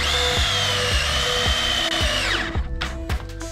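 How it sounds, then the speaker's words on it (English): A power drill drives longer screws into sheets on a lambing shed, whining loudly and steadily at close range before winding down, followed by a few short knocks and clatters. "just gonna put some screws in here"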